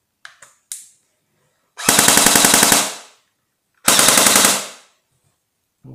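An MP5 A5 Sportline airsoft gun fires full auto indoors without BBs: a few single clicks, then two loud close bursts of rapid mechanical rattling, each about a second long, with no speech.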